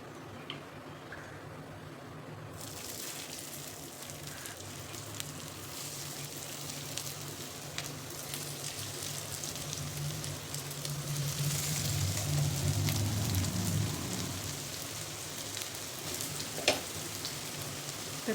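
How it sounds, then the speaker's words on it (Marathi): Mung dal and poha tikkis shallow frying on a hot griddle, a quiet, steady sizzle and crackle of oil that builds slightly midway, with a sharp tick near the end. "आपल्याला शेलो फ्राय करायचे"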